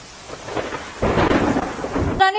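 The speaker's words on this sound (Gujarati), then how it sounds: "રાજકોટમાં સતત વરસાદ ચાલુ છે" Heavy continuous rain in Rajkot with thunder, a low rolling rumble swelling after a second under a steady dense downpour, loud and close, no voices.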